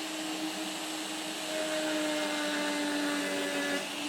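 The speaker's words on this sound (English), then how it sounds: "I'm using the sandpaper Dremel" Dremel rotary tool with a sandpaper drum shaping a wooden eagle-head cane, a steady high whine with grinding friction that rises slightly in pitch midway, fairly quiet and close, with no talking.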